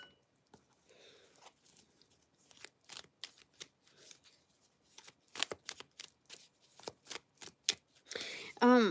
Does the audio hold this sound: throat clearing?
no